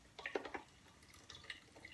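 Water goes into orange juice in a blender jar with a few faint, quick drips and small splashes over two seconds.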